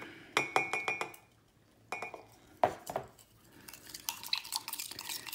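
A utensil stirs ceramic powder into water in a container, giving light clinks and taps against the sides in short bursts, then a quicker scraping stir toward the end, close and fairly quiet.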